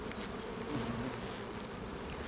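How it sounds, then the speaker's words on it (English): Wasps buzzing in the Arizona desert as a newly hatched Ammophila female digs up out of the ground, with male wasps swarming and patrolling overhead, giving a steady close droning hum. "A virgin Ammophila wasp has just hatched and is digging her way into the world."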